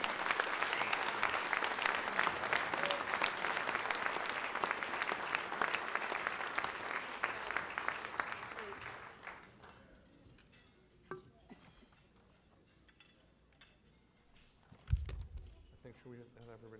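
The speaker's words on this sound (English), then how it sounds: "Let's give them another big round of applause." Sustained audience applause for honorees at a foundation event, a dense wash of clapping that fades out after several seconds, leaving scattered clinks and room noise with a thump near the end.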